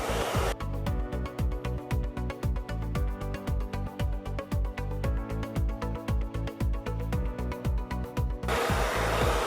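A hair dryer blows in a steady, close roar, with a rhythmic beat pulsing underneath for most of the clip.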